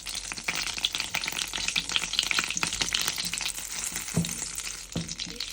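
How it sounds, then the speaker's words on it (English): About 50 grams of butter melting in a small frying pan for a pear dessert, giving a steady, close sizzle with a few brief utensil knocks. "this is about 50 grams of butter, which needs to be melted"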